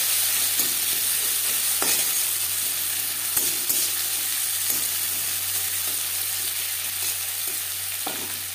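Two onions sizzle steadily in the oil left over from frying fish for a fish curry with peas, a bright continuous crackle with occasional stirring scrapes and no talk.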